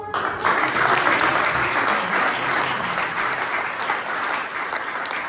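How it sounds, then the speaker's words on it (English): A roomful of people at a weekly sponsored business gathering gives a sustained round of applause for first-time attendees, close and even throughout with no talk over it. "Let's give them a little round of applause."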